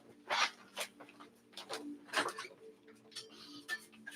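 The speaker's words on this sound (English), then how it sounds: "I'm just going to let the dog out 1 second." A dog let out of the house gives several short barks and yelps close by, spaced irregularly, mixed with brief household clicks and movement noise.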